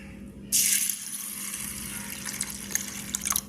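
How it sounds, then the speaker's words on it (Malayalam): Water pouring into a bowl of chana dal and urad dal set to soak, a steady close splashing stream that starts abruptly and runs on without a break. "അപ്പം നമുക്ക് വെള്ളം ഒഴിക്കാം."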